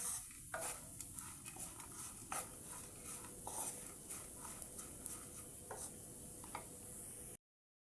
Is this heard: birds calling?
no